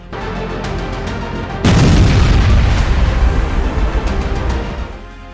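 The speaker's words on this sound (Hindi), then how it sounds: "रूसी तोपखाना यूक्रेनी सेना के 221 मोर्चों पर अंधाधुंध हमले कर रहा है।" Artillery explosions from Russian shelling of Ukrainian army positions: a loud, deep boom bursts in after a steady rumbling background and rolls on for several seconds before fading.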